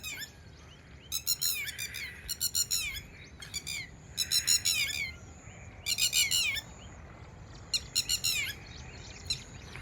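Birds call in agitated bursts while confronting a snake, sharp chirping and squawking clusters repeating every second or so over faint outdoor background noise.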